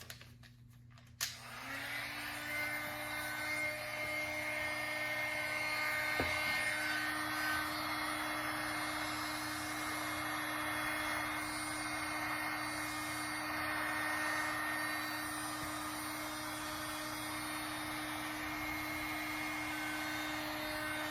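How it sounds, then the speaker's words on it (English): Mini heat gun switching on and blowing hot air steadily to dry air-dry filler, a near, constant whooshing hum that runs alone for about twenty seconds after a sharp click at the start. "we'll use the mini heat gun."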